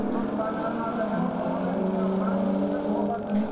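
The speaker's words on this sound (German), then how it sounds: "Brandt gibt gleich mächtig Gas, um eventuell Sichelschmidt auf dessen Joker-Lap zu überholen" A rallycross race car at the Lausitzring German Rallycross Championship round revs hard under acceleration, a loud sustained engine drone with rising tones, while a commentator talks over it.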